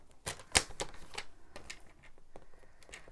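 Card stock being scored on a scoring board for a handmade card, a quick run of close, crisp taps and clicks with an uneven rhythm, one louder snap near the start.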